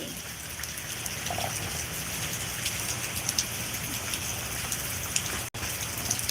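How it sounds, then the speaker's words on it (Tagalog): Steady rain patters on a surface in Tennessee, a constant hiss with scattered droplet ticks, moderately loud and unbroken. "Ayan, umuulan, umuulan."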